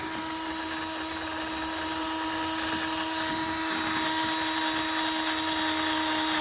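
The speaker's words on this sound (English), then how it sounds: "I'm going to take the heavy of it off with this wire brush" A wire brush scrubs dry grease off a part of a 1957 Ferguson 35 tractor, giving a constant, even whirring hiss with a steady high whine, close up and without talk.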